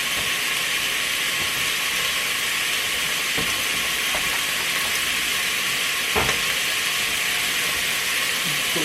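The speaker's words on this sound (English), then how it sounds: "from the cabinet so that steam don't go under the cabinet." Steady broadband hiss of steam from a Presto electric kettle boiling spaghetti in a kitchen, continuous and fairly loud, with a few faint clicks and knocks from utensils.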